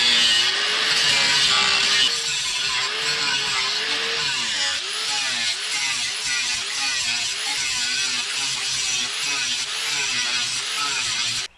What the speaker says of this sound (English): we're going to take here and do some more cutting back where this seam is with the grinder